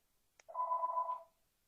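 A single short electronic telephone ring sounds close and clear, a buzzing tone lasting under a second in an otherwise quiet room.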